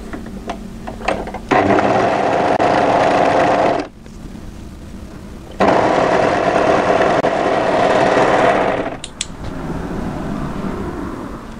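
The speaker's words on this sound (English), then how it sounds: "we're going to overlock this underarm" Overlocker stitching the underarm seam of a funnel-neck crossover sweater, running in two sustained bursts of loud, fast mechanical whirring separated by a short pause, close up and without voices.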